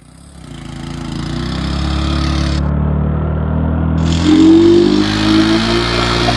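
A car engine runs steadily and loud throughout, with a low rumbling hum and slight revving near the end, during a car-versus-motorbike pulling challenge.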